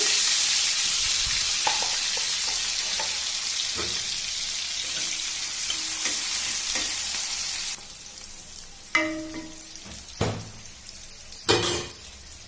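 Chopped onion hitting hot oil in a pan after fish has been fried, a loud hissing sizzle that slowly fades, followed by a few clinks and stirring scrapes near the end.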